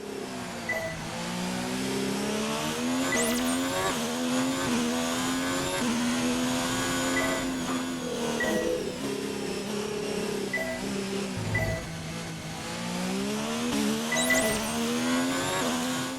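An F1 race car in the video game F1 2019, driven without ABS or traction control, its engine note continuously rising and falling through gear changes at loud, steady volume, with a brief dip near the middle and a renewed surge toward the end.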